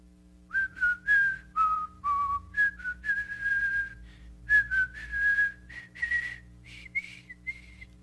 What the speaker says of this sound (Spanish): voy a silbar una melodía de una película